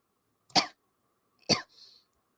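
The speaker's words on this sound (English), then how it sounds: "Coughing on my own spit." Two sharp coughs about a second apart, close and loud, with a faint throaty breath after the second.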